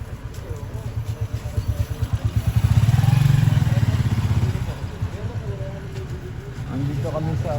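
A small ATV engine runs steadily close by, its rumble swelling louder for a few seconds then settling back to a throbbing idle.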